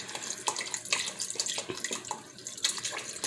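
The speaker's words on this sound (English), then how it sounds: "I have 32 ounces of chicken broth." Chicken broth from a 32-ounce container pours steadily into a pot for a green chicken chile white bean soup, a close, continuous splashing rush with no talk.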